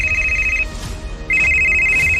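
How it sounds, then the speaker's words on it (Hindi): A telephone rings in two steady electronic trills separated by a short pause, loud and close over a low background hum. "2 रिंग के बाद ज्योति के पापा ने फोन उठाया"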